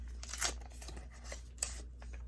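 A Sports Kings trading card wax pack tears open close by, a quick rip followed by faint crinkling and one sharp snap of the wrapper, quiet and alone.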